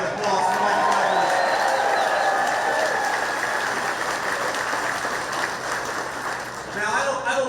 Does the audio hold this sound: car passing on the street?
no